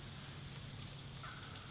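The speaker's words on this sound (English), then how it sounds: "Had turkeys gobbling in the trees." Wild turkeys gobbling in trees on a morning hunt in Michigan: a faint, distant gobble over low outdoor background noise.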